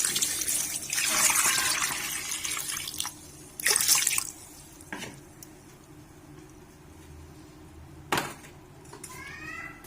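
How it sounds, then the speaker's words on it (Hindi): Water from a glass splashes and trickles into a cooking pot of meat and potato curry in short bursts, with a few drips and clinks in between, fairly close and moderately quiet. "पानी ऐड करेंगे 1 गिलास।"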